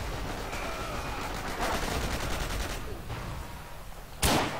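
Gunfire from the World War II shooter Forgotten Hope 2 in multiplayer on the Giarabub map, a steady wash of distant rapid shots and bursts over several seconds, ending in one louder, closer blast.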